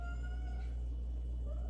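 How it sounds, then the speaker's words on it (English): A cat meows faintly in the background of a home kitchen, soft tonal cries over a steady low hum. "She's like meowing in the background."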